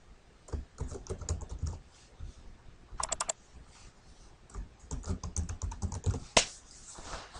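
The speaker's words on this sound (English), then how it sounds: "Now over here I would like to type another name here." A computer keyboard clatters as a name is typed, brisk irregular bursts of key clicks up close with short pauses between words, no voice over it.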